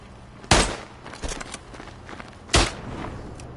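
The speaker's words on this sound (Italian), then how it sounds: "Mi sparo l'ultima cartuccia." Rifle gunfire on the Italian front in the WWI shooter Isonzo: two sharp, loud reports about two seconds apart, with fainter distant shots and thumps scattered between them.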